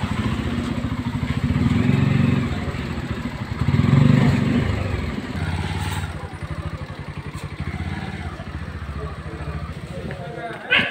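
Motorcycle engine idling and revving as the bike rides in and is parked at Dumboor Narikel Kunja, a coconut island in Tripura, with a steady close low rumble and thuds, under ongoing talk.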